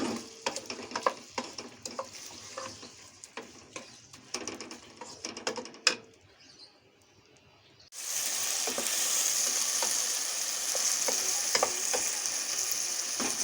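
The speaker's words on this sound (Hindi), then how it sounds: "चिकन जो है वो बड़ा अच्छा सा फ्राई हो रहा है।" Boneless chicken fries in a pan with browned garlic and ginger: spatula clicks and scrapes over a low sizzle, a brief quiet lull, then a loud, steady, hissing sizzle that lasts to the end.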